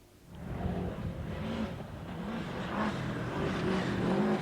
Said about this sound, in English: The new super special stage at Donington saw cars like a Lenz Subaru coming fast and furious.